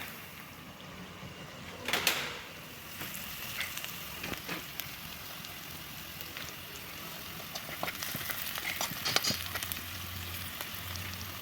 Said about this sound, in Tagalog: Salang natin ang bawang na yan.